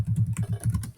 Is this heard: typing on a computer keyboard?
yes